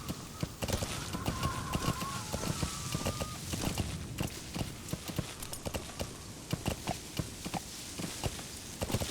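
Horse hooves galloping in the video game Metal Gear Solid V: The Phantom Pain, a steady rapid clip-clop rhythm of hoofbeats running throughout, with a brief faint tonal game sound near the start.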